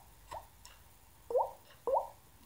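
A voice imitates water drops with three short, hollow plopping pops, one soft and two louder, made with the mouth in a quiet room.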